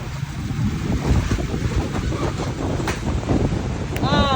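A storm with strong gusting wind and rain, a loud steady roar and rush of wind buffeting close by, with a voice briefly exclaiming near the end.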